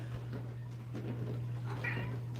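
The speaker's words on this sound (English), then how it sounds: "Are you meowing at me?" A cat meows once, close and fairly quiet, over a low steady hum.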